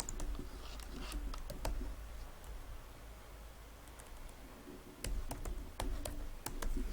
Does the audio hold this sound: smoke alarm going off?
no